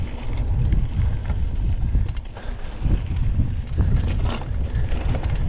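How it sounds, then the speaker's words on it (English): Gusty wind buffeting the microphone on an exposed trail shelf while mountain biking near Boise on the Rock Island Jump Trail: a loud, steady low rumble with surging gusts and scattered rattles, no talking. "Wind's picking up on the exposed shelf."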